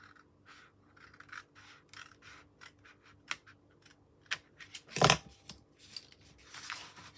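Scissors snipping through card for a handmade album base, a quick series of sharp close cuts and rustles with one louder crunch midway, no talk.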